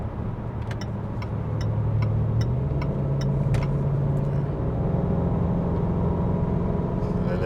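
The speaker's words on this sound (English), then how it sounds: "Listen to the downshift as I pick up speed." A Range Rover Sport L494 towing a load on the highway drones steadily from inside the cabin, its engine note stepping up in pitch as the transmission downshifts while accelerating, with faint clicking in the background.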